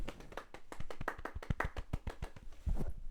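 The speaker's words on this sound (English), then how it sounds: "Round of applause." A small group of podcast hosts clap together in a quick, uneven burst, the sharp claps fairly quiet and close with no talking over them.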